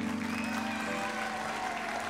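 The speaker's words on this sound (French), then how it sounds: "je vous demande de les applaudir" A studio audience at a French children's singing show applauds the young performers, a steady continuous wash of clapping with a low hum underneath.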